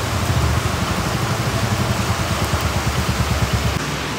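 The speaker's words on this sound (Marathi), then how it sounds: "पाऊस किती पडतो बघू शकता" Heavy monsoon rain pours down steadily during a stop on a trek, a dense, loud, unbroken hiss that fills the whole stretch with no voices.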